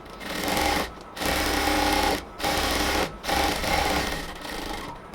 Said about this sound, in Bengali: জয়েন্টগুলোকে এখন স্টিচ করে নেব।